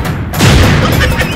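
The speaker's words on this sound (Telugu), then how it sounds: "బాంబు పేలిపోయింది." A bomb explosion sound effect on a Telugu TV game show: a short, loud booming blast that swells and rumbles for about a second, with no speech.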